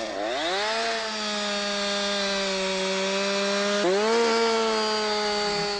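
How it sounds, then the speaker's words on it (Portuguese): A Husqvarna chainsaw cutting through wood, a loud steady engine whine that drops in pitch as the chain bites, holds under load, then briefly revs up and settles again, close and alone. "Pode serrar tanto com a parte superior da lâmina como a inferior."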